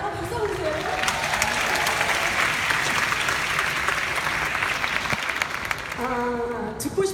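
An audience at a business seminar breaks into loud, sustained clapping for several seconds, which fades as a voice resumes speaking at the end.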